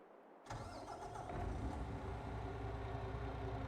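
A truck engine in Farming Simulator 22 cranks and catches at about half a second, then settles into a steady, close, rumbling idle with no talk over it.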